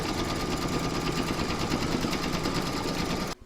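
An embroidery sewing machine stitches a doll's placement outline with a steady, fast, close mechanical whir. It runs evenly throughout and cuts off abruptly just before the end.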